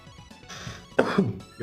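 A few harsh, close coughs break out after a quiet moment, one loud burst followed by a couple of rougher throaty ones.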